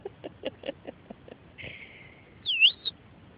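Faint bird calls outdoors: a few soft chirps, then a drawn-out whistle and a brighter rising-falling whistled note, sparse and quiet against low background noise.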